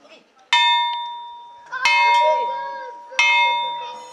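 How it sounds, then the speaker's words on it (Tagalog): Three loud metallic clangs of a makeshift iron bell struck to signal the start of school classes, each ringing out and slowly fading, spaced about a second and a half apart, with faint voices in the background. "sa hudyat ng bakal na ito o makeshift bell, magsisimula ng magturo sa klase ang 3 guro"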